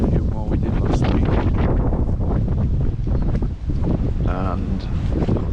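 Strong wind buffets the microphone in a constant roar, with a voice talking underneath the gusts, in a garden.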